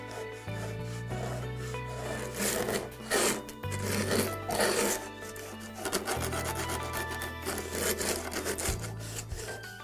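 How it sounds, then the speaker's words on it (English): A hand grout rake scrapes old, stained grout from between tiles in repeated back-and-forth rasping strokes, close and fairly loud, with a faint tonal hum beneath and no talking. "we'll next need to remove the old, stained, or damaged grout using a grout rake"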